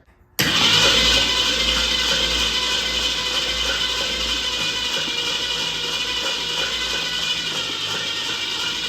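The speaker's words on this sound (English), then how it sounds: "I'm gonna go ahead and crank it a little longer." A 1966 Ford Mustang engine, left sitting for 16 years, cranking on the starter after a sudden onset, a loud, steady mechanical churn held for several seconds without catching and with no talking.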